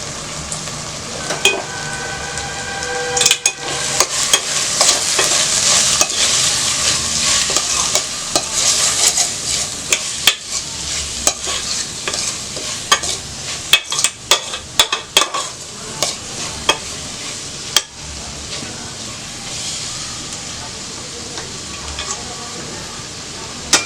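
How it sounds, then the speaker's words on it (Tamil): Spice masala of cumin powder, garam masala and fennel powder being stirred in a pan for gongura chicken curry, with steady close sizzling and frying and frequent sharp spoon scrapes and clicks against the pan throughout. "இதெல்லாம் வந்து நல்லா கலக்கி விடுங்க"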